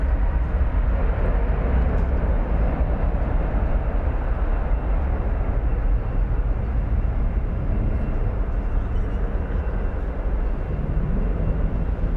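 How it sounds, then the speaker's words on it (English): A plane takes off on a runway at DFW airport, a loud, broad, continuous roar that stays steady throughout with no breaks and no talking. "So here's a plane, didn't need the whole runway."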